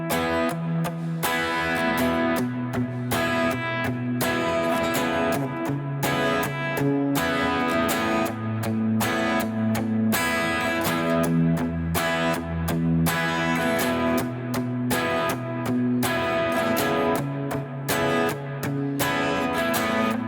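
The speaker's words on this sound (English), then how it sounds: "the combination of the actual strums, where I play the accent on the chord, followed by those palm muted pedal tones" Electric guitar strums a steady eighth-note pattern, accented full chords alternating with tight palm-muted pedal tones, driving and evenly repeated for about twenty seconds with no talking over it.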